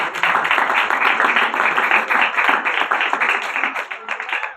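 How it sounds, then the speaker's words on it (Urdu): An audience applauds at a stage event for a young child, producing dense, energetic clapping that holds strong for several seconds before thinning slightly. "اس کے لیے تالیاں بجائیے۔"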